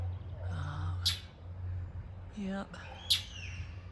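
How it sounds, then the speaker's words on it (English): A loud bird calls in a southern California backyard garden, giving a few sharp, piercing chirps and a short rising call over a low background hum, while a person briefly says a word. "And it's a really loud bird right there."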